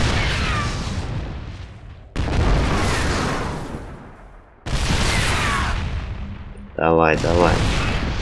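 Siege tanks in StarCraft 2 fire artillery in three heavy booming salvos, each a loud blast followed by a decaying rumble, with a short voice line near the end.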